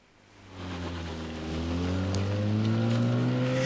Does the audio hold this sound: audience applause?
no